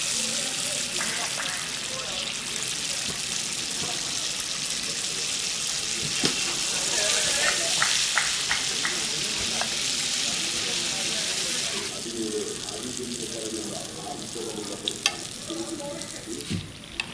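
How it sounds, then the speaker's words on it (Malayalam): Unniyappam batter frying in well-heated coconut oil in a home kitchen, a steady close sizzle and bubbling throughout, with occasional light scraping clicks and brief talk. "എണ്ണ നല്ലപോലെ തിളച്ച് വന്നിട്ടുണ്ട്."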